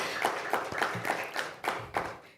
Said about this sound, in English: please put your hands together in a huge round of applause to our moderator, Dr. Gregory Mournier